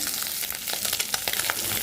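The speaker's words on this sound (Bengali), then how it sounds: "মাছটা কিন্তু আমি কড়াইতে দিয়ে দিছি একটু মশমশা করে ভাজার জন্য" Fish sizzles steadily in hot oil in a wok, a continuous crackling hiss with scattered pops, close and fairly quiet, with no voices.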